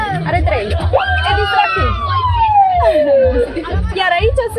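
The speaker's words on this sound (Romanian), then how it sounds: "Aici avem sirenele, aici dăm drumul la sirene, asta e goarda." A Romanian police car siren is switched on during a police anniversary event with schoolchildren. It sounds as a loud, close wail that rises and then slowly falls in pitch, with voices and crowd chatter around it.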